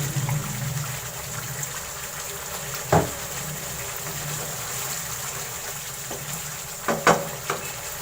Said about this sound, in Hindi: थोड़ा सा डाल देंगे इसमें पानी।